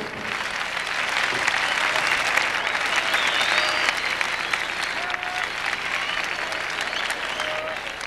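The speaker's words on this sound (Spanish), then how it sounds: "¡Dale el aplauso!" A crowd in a bullring applauds a singer, loud dense clapping sustained for several seconds with cheers and whistles rising over it.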